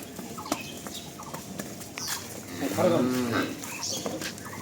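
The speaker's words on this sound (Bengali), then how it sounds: "দেখছেন গরুটা কত বড় গরু" A large dairy cow lets out one long, loud moo midway, with clicks and faint fowl calls around it at a cattle farm.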